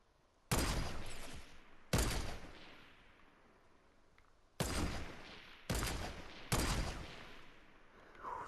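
Five loud, separate gunshots from the video game Fortnite, each a sharp crack with a long ringing tail. Two come early, then three follow in quicker succession over a quiet background.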